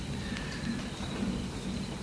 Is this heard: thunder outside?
yes